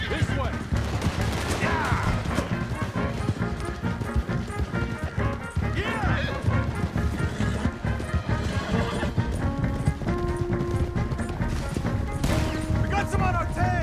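Gunfire in the video game Red Dead Redemption 2 pops in repeated shots through a dense, busy chase with galloping horses, music and shouting voices throughout.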